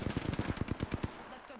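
Rapid automatic gunfire in the video game Apex Legends, a tight burst of about a dozen evenly spaced shots that trails off into quieter game noise.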